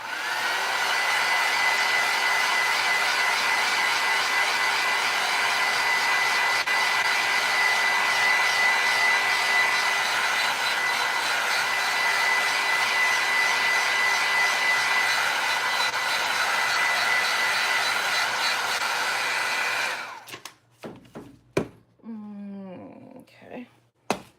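Hair dryer blowing steadily and loudly on decoupage over a terracotta flower pot, a constant whooshing roar that cuts off near the end, leaving brief scattered handling noises.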